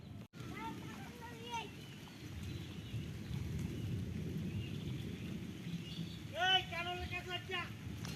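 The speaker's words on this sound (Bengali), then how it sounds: "বৃষ্টি" Steady rain from a nor'wester storm with a low, rolling rumble of thunder underneath, while faint voices or chirps break through now and then.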